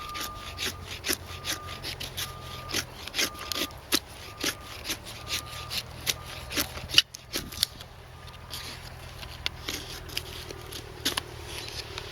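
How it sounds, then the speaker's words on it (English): Repeated rasping strokes of a serrated knife blade sawing through cedar wood, close and rhythmic, with a brief pause midway before the strokes resume. "It's sawing away with these serrations."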